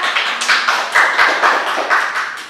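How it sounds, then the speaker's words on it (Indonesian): Audience applause in a classroom or seminar room: a dense, close burst of many hands clapping that runs steadily for a couple of seconds, with a few sharper claps standing out. "Kasih aplaus dulu dong buat kita"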